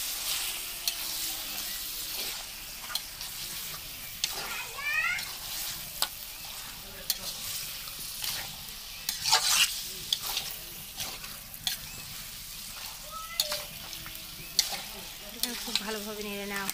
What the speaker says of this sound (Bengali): এখন এটাকে ভালোভাবে নেড়ে নেওয়া হচ্ছে।